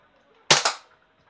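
A Nerf gun fires one foam dart: a single sharp pop with a short double snap, close and fairly loud, then quiet.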